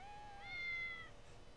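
A single drawn-out cat meow rises and falls in Postal 2, clear but fairly quiet over a low, soft background, with no talking.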